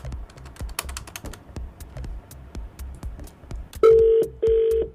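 A telephone number is tapped in with a quick run of clicky keypresses, followed by two long, loud ringing tones as the call connects.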